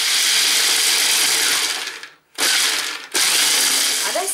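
Toasted almonds being chopped in an electric food chopper, a loud continuous whirring grind that cuts out twice in short bursts before resuming, with no talking.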